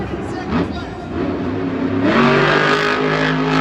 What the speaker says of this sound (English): The truck doesn't sound right.